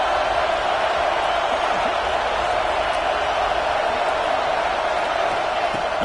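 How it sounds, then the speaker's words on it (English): A football stadium crowd at a college game between the Vols and Clemson, a dense continuous roar of many voices at steady high volume with scattered whoops, with no clear speech. "This crowd is trying to inspire this defense to make a big red zone stop."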